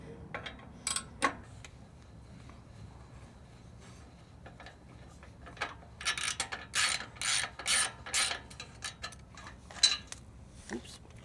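Ratchet wrench clicking on a 9/16 exhaust clamp bolt of a 2025 Harley-Davidson Low Rider S, with sparse clicks at first and then a denser run of quick ratcheting bursts, close and moderately loud.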